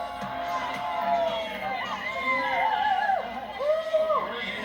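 A sellout crowd cheers and shouts at the Buttermilk venue for the X Games Aspen women's snowboard superpipe final, a steady roar of many voices with rising whoops, continuous and fairly loud throughout.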